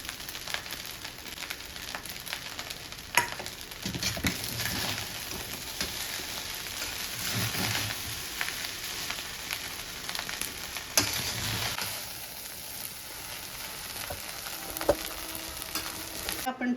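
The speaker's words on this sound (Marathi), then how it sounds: "भात चांगला परतून घेऊ।" Cooked rice for vegetable pulao sautéing in a pan, a soft continuous frying hiss with occasional stirring scrapes and clicks, close but fairly quiet, no talking.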